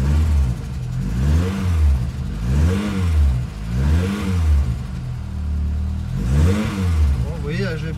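Renault Clio 16S engine revving hard under acceleration after a faulty coolant sensor repair, repeated rising and falling revs in smooth waves, loud and close with no gaps.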